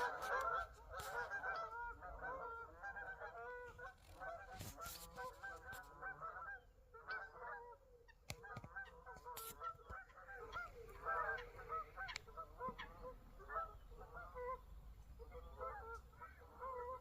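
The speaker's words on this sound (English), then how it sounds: "Geese are coming through" A flock of geese flying over Belvide Reserve toward their roost, with overlapping honks in a loud, continuous chorus that rises and falls as the birds pass, plus some faint background rustle.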